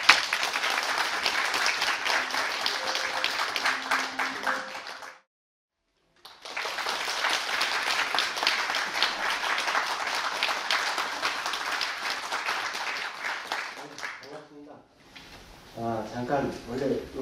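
Sustained audience applause greets the first stage performance at a Korean event, stopping briefly and then resuming, before a speaking voice and some tonal sounds take over at the end.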